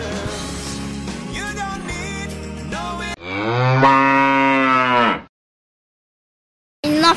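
Cattle on Norfolk Island moo in long, loud, drawn-out calls, one sustained bellow rising and falling before a pause, with other farm sounds and a further call starting at the end.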